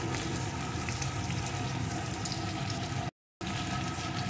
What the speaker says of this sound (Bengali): এখন আরও কিছুক্ষণ আমি মশলার সাথে পেঁপেটাকে একটু কষিয়ে নেব